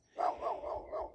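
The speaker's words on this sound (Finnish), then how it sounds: "Vihainen koira siellä haukkuu niin minua." An angry dog barks in a short, faint run of three or four yapping barks from some distance outdoors.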